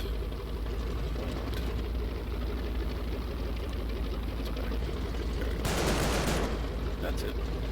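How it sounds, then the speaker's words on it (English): Video game gunfire rattles through a replay in steady, dense bursts across a tree line, with a louder volley near the end and a low engine rumble underneath. "took a few shots at the guy who had some balls and ran across this tree line"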